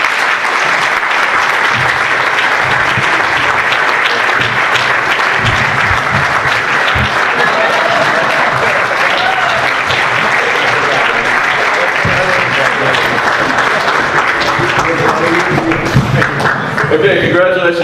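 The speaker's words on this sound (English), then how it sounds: "How about a round of applause?" An audience gives sustained applause to three award recipients, Ed, Skeeter and Andy, at the 63rd annual WFIWC Founders Award presentation, with dense steady clapping for about eighteen seconds and some crowd voices mixed in near the end.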